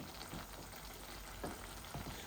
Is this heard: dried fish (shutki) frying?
yes